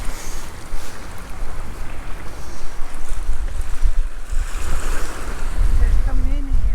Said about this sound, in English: Keep an eye on the tide here, Poppy.